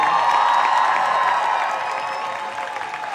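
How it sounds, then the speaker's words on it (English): Audience applause and cheering during a Broadway curtain call, a dense steady roar of clapping that stays loud and full before easing slightly toward the end. "I'd like to give a clap to Michele Hyland."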